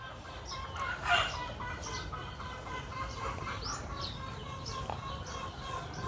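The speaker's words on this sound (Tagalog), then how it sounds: "Manok natin dyan, no?" A chicken clucks in short, faint bursts outdoors, with other bird calls scattered in the background and a low steady hum underneath.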